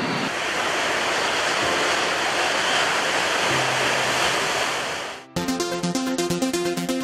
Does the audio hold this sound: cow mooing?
no